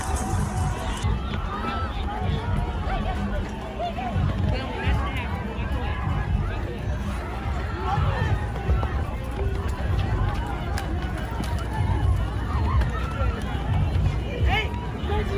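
A large crowd rushes into the Astroworld Festival concert, a dense, continuous roar of running feet, shouting and babble that stays loud and unbroken throughout.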